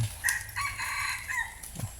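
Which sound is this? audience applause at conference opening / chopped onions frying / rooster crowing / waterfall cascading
rooster crowing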